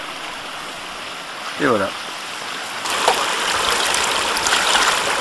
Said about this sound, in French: On a un ruisseau de montagne.